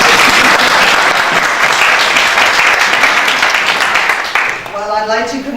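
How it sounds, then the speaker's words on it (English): An audience at a school STEAM student showcase night breaks into loud, sustained applause that fades toward the end, with a voice speaking as it dies down. "Maybe we should applaud them."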